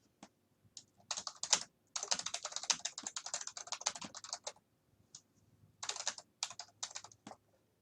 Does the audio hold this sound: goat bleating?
no